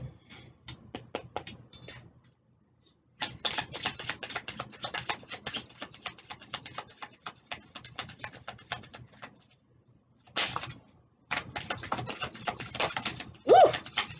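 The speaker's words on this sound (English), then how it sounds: "If you don't like the shuffling, you can skip to minute four." Tarot cards being shuffled, quick dense bursts of riffling and slapping cards in several long runs separated by short pauses, close up, with no talking.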